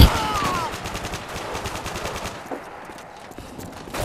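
Gunfire in the video game Modern Warfare 2, with rapid, continuous automatic fire and shotgun blasts rattling loudly throughout, and a brief electronic chirp near the start.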